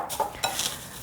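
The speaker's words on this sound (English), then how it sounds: "we'll mix it with a spoon." A spoon mixing melted butter into cornflakes, giving a few quick crunchy scraping strokes close up, two distinct rustling bursts then a softer stir, with no talking.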